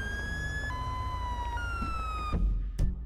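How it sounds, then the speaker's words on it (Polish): A police car siren in GTA V wails in long sliding tones that step between pitches, loud and steady, then cuts off with a couple of sharp bursts near the end. "Jezu, musieli mi zepsuć syrenki."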